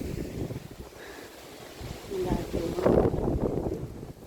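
Gusty wind from Storm Ciaran in France roars against the microphone in a continuous low rumble, rising stronger toward the end.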